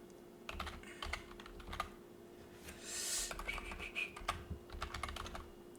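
Typing on a computer keyboard: quiet, close clusters of quick key clicks, sparse and irregular, with short pauses.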